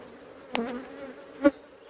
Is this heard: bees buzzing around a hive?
yes